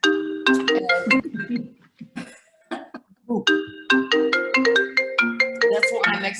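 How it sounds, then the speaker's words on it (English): A mobile phone ringtone plays a repeating melodic chime pattern in bursts during a workshop Q&A, pausing briefly mid-way, with a cough or throat clearing heard between phrases. "My phone is ringing, I'm sorry, and I can't mute it."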